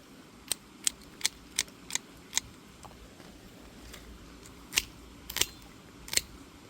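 Scissors snip through wild mushrooms in a quick run of sharp, crisp clicks, then scattered single cuts with pauses between, close and fairly quiet against a soft outdoor background.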